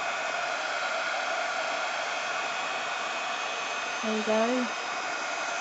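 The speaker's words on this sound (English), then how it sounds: "So just heat it up and you can see that colour, embossing powder changing." Heat tool melting embossing powder on a card, a steady close blowing hiss running throughout, with a brief spoken phrase near the end.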